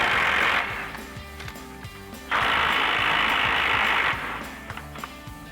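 A ratchet fitted with a 24mm socket spins off the pitman arm nuts on a Silverado 2500's steering linkage, two loud, fast clicking runs with a pause between, close up.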